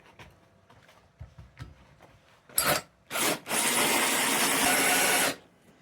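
A small Bosch cordless drill on an 18-volt Pro Core battery bores into wood, two short bursts and then a sustained loud grinding whir for a couple of seconds before stopping, after faint handling noise.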